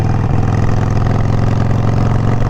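A Harley-Davidson Sportster Evo engine idles through Vance & Hines Mini Grenades exhaust, a loud, close, steady low throaty grumble with an even lumpy pulse throughout.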